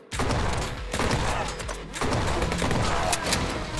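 Bullet hell gunfire in HyperParasite: a dense, relentless barrage of shots that briefly dips near the midpoint and then resumes at full force, loud and close.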